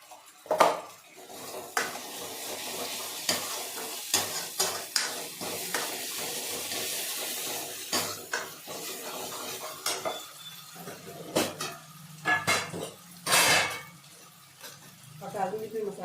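Tomatoes frying in a pan with garlic and onion while a utensil stirs and scrapes against it, with clanks of cookware and a person talking over it.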